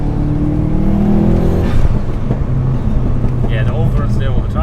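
A Subaru Impreza P1 engine on overrun with antilag gives a steady revving drone, with crackles and pops as the throttle lifts. It sounds close and loud from inside the car, under continuous conversation.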